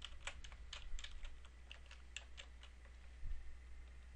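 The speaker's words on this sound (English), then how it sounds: "we can go the traditional route and type in a search term" Quiet typing of a search term on a computer keyboard, a run of light irregular key clicks lasting several seconds with no talk.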